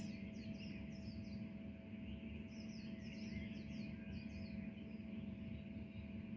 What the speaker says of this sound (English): Just hearing the birds humming early morning is a good sound to hear.